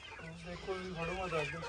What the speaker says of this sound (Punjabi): ਹੁਣ ਆਪਾਂ ਲੈਨੇ ਆ ਡਬਲ ਐਫ ਜੀ ਮੁਰਗੀਆਂ